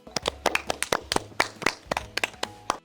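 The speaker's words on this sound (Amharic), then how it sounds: "አጨብጭቡለት ብለው አጨበጨቡለት" Children clapping for Lumba, the storyteller in an Ethiopian kids' story, with a burst of sharp, uneven handclaps at close range running for about three seconds, no voices over them.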